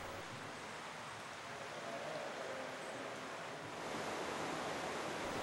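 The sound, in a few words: water flowing through a culvert without weirs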